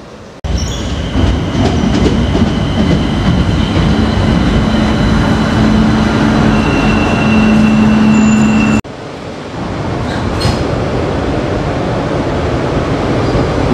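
Buenos Aires subway train riding along with a steady loud rumble, wheel noise and a sustained squeal, then a sudden drop and shift in tone as the carriage continues on.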